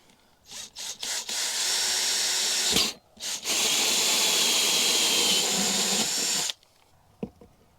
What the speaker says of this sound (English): I hate drilling holes in my caravan at the best of times, but here we go